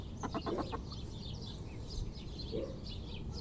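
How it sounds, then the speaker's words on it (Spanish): Silkie hens cluck softly in a garden coop, a few quick clucks near the start followed by quieter scattered calls and bird chatter in the background. "Son de la misma raza. Gallina sedosa le dicen."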